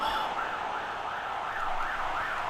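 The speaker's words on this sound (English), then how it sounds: "I do apologise if you can hear sirens in the background." A wailing siren outside, faint and distant, its pitch sweeping up and down in a steady repeating cycle throughout the short stretch.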